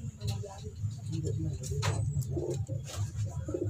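Low, rolling coos from racing pigeons repeat steadily through the clip, close by, with faint chirps and rustling above them.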